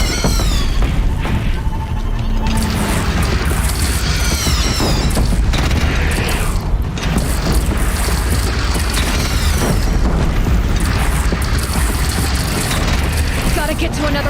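Cannon fire from a platform in Horizon Zero Dawn: heavy booming shots and crashing impacts thunder through a dense, loud battle soundscape, with high whistling tones and voices around them.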